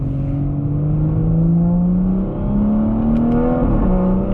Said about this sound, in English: Let's put this car in comfort mode because the pops and bangs are just mad.